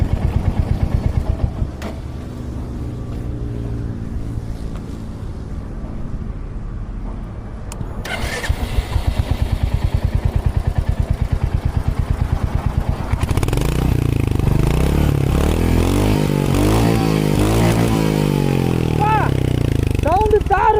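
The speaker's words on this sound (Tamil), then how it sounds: "அடுத்த பாசிட்டிவ் வண்டியோட எக்ஸாஸ்ட் நோட்" Royal Enfield Hunter 350 motorcycle engine, a steady low exhaust rumble that swells louder and rougher partway through as it is revved, with a person talking over it.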